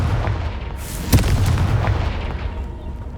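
Confringo fire spell detonating in Hogwarts Legacy, a single sharp blast about a third of the way in over a dense, rumbling battle-like background of booms, loud and close, no talk.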